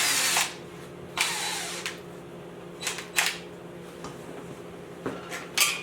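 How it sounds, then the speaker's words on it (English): An impact gun zips bolts off an old engine in several short, loud rattling bursts separated by brief pauses, with a steady background hum underneath. "where's your impact gun? Can you take these two bolts off, please?"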